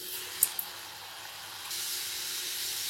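Pressed murukku dough fries in hot oil on a medium flame, giving a continuous bright sizzling hiss, with a couple of sharp pops early and the sizzle swelling louder partway through.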